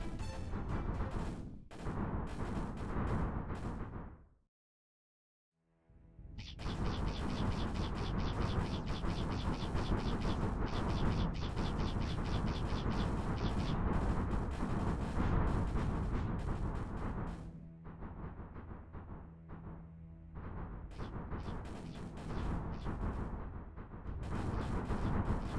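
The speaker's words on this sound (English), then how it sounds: "Yeah, just nuke the crap out of them." Nukes detonating in the Rusted Warfare strategy game, a long roaring wall of explosion and rumbling blast noise, near and loud, dropping out briefly early on before surging again and tapering into lighter crackling bursts.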